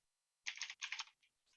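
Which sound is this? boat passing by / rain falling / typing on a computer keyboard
typing on a computer keyboard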